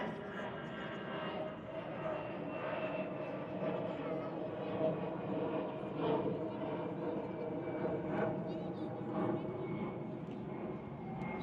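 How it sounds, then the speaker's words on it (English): An airplane drones overhead above an outdoor gathering in a park, a faint, steady engine rumble that swells and eases across the clip while someone speaks in the background. "I just wait for the plane to go."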